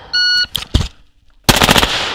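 Select-fire MK18 rifle with a 10.5-inch barrel firing a rapid six-round burst on a shooting range, loud and close, after a short electronic beep and a few scattered shots.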